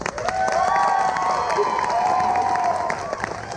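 An audience at a Hawaiian luau at the Hale Koa Hotel claps and cheers, with whoops and sustained shouted voices over a steady wash of applause.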